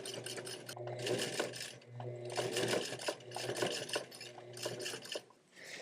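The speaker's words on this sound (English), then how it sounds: "to finish these back pockets, a little zigzag stitch in each corner for some additional strength" Sewing machine running zigzag stitches across the corners of black jeans back pockets, steady mechanical bursts starting and stopping in close-up with short pauses between runs.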